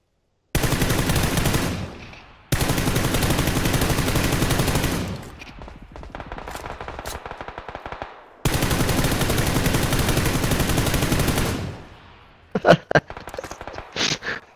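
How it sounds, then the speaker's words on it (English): Rapid bursts of automatic gunfire in a battle royale video game, three long loud volleys separated by short gaps, then a few scattered sharp single shots near the end. "That was shots."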